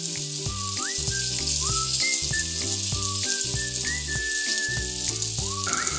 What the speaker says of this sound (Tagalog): nailagay na po natin yung ating bawang at sibuyas